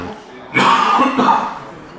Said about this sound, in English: I've got a cough as well